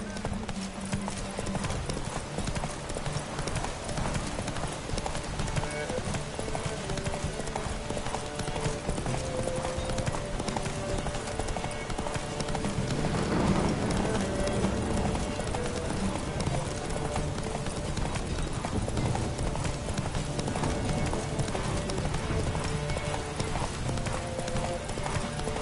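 Roach the horse gallops in a video game race, a steady, dense clip-clop of hooves running continuously at close range over a busy game soundscape, with an occasional whinny.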